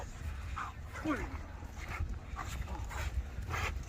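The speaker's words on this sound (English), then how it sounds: "He's such a punchy dog." A punchy working dog in bite training whimpers and yips in short repeated bursts, close by, with a handler's voice talking over the activity.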